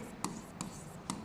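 Marker or chalk strokes on a board as an electric-dipole equation is written, three short scratchy bursts spaced apart against a quiet room background.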